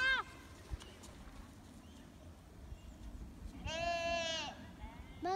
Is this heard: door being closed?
no